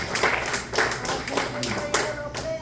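Congregation in a church service clapping together, a dense steady round of handclaps with a few louder accents, mixed with background voices and talk throughout.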